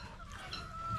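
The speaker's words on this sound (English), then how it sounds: "We've got our chickens up in this area for now" Chickens cluck softly in a brief burst, fairly faint, with a short higher call partway through and no one talking.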